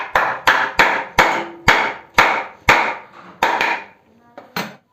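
A hammer strikes a forged spear bit, driving it into a pipe. About ten sharp, ringing blows fall in an even rhythm, close and loud, with a short pause before the last two.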